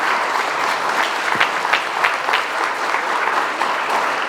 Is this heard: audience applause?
yes